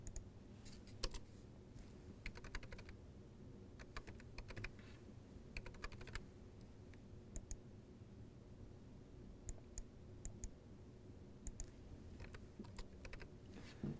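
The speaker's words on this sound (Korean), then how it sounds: "요 날짜를 치고 입력하면 되겠죠" Soft, quiet clicks of a computer keyboard as a date is entered into accounting software, scattered taps and short runs of keystrokes over a faint background hum.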